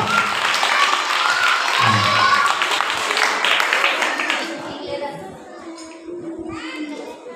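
An audience at a church's CBC 2024 celebration in Peddapuram applauds a children's skit: dense, loud clapping fills the first half, then thins and fades while children's voices and chatter carry on.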